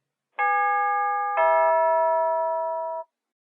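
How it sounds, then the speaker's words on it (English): A two-tone ding-dong doorbell rings once at a front door, the second chime ringing out and fading over a couple of seconds, clear and close with no voices. "I'll ring the bell."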